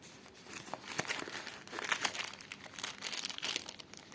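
Plastic packaging on the box of a Rinachek blood glucose meter crinkles and rustles continuously up close as the box is opened, with no talking.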